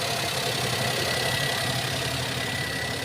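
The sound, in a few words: 2021 used car engine idling after start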